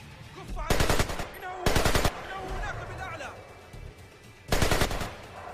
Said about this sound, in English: instead of actually shooting the guy, to try and shoot that barrel